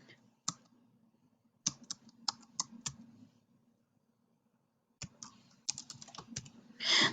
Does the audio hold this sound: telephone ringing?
no